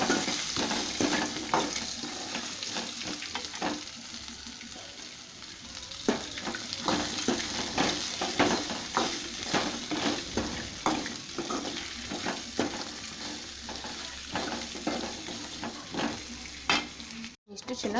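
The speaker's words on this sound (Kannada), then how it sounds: "ಈಗ 3 ಗ್ರೀನ್ ಚಿಲ್ಲಿ ಹಾಕ್ತೀನಿ." Green chillies and large-cut onion pieces fry in a pan for a vegetable kurma, with a continuous close sizzle broken by frequent rhythmic scrapes and knocks of a stirring spoon.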